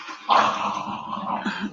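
Dogs play-fighting let out a single rough, growly bark-like burst that trails into a grumbling rumble, close and fairly loud with no talking.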